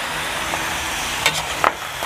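Pork belly frying in a pan as it crisps into chicharon, a steady loud sizzle with a couple of brief clinks or stirring knocks.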